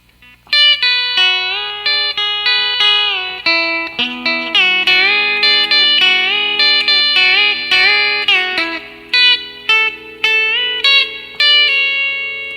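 Twangy electric guitar with a B-bender plays a lead-in into a tune, a long string of picked notes with smooth upward bends and sliding pitches, loud and upfront with no voices.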